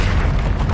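The fire spell Incendio bursts out in Hogwarts Legacy, a loud, dense whoosh of flame that booms and roars for under a second with no voice over it.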